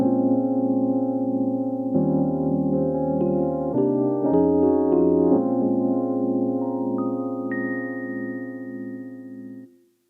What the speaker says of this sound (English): I want to take a look at the stage EP Tremolo 1